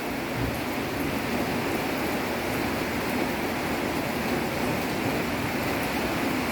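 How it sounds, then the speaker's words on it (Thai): Steady rain falls during an overnight downpour, a dense continuous hiss with no breaks, moderately loud and with no voices. "ก็ยังมีฝนอยู่เลยค่ะ"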